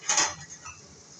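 A utensil clinks and scrapes against a cooking pan while vegetables with tomato, parsley and seasoning are stirred over a gas flame, a couple of sharp metallic taps followed by softer scraping, close.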